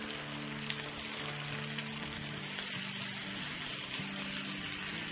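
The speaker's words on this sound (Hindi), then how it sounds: "बस इसको हम 2 मिनट सॉटे करेंगे प्याजों के साथ और अदरक लहसुन के साथ।" Onions sautéing with ginger and garlic paste in a pan, giving a steady, even sizzle and crackle at moderate volume with no talking over it.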